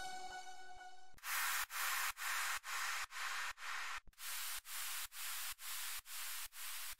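Slap house drop impact samples: a rapid series of about a dozen bright, noisy bursts in a steady pulse, each cutting off sharply, following a short held tone at the start.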